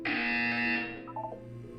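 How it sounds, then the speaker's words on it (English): A buzzer in the Portal 2 video game gives a loud, sustained electronic buzz lasting about a second before fading, followed by a few brief warbling tones. "When you hear the buzzer, look up at the ceiling"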